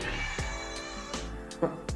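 An indoor house cat meows several times, with short close mewing calls spaced across the moment over a quiet room background.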